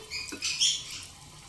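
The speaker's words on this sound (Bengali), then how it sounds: "এবার খুব সাবধানে একে একে কিছুটা ফুলকপি আমি দিয়ে দেব তেলের মধ্যে" Cauliflower pakoras fry in hot oil over a low-to-medium gas flame, a short burst of bright, crackling sizzle that swells and fades over about a second.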